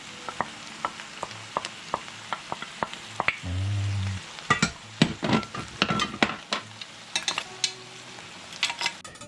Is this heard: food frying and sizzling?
yes